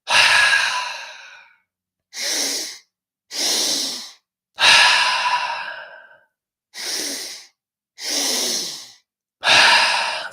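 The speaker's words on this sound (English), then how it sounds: "Exhale mouth." Strong breaths during a breathwork exercise, with long mouth exhales alternating with shorter sharp breaths, close and loud, each separated by silence, seven in sequence.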